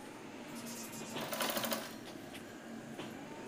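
A sewing machine stitching pleats into a kids' umbrella frock, a rapid mechanical whir and patter that swells in the middle and then eases, close and steady, with no speech.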